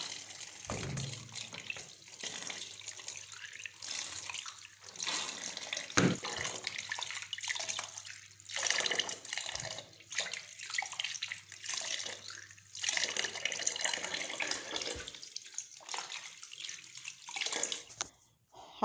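Eggplants rinsed under a running kitchen tap, water splashing and gurgling unevenly over the vegetable with brief interruptions and handling knocks, close and moderately loud, no speech.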